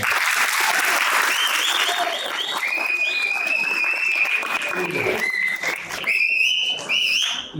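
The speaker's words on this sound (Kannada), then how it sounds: "ಮಹಾರಾಜ ಕಾಲೇಜಿನ ಎಲ್ಲ ಮಕ್ಕಳಿಗೆ ಮತ್ತೊಮ್ಮೆ ಜೋರು ಚಪ್ಪಾಳೆ" A college theatre audience claps loudly and steadily for student drama performers, with shrill whistles rising above the applause.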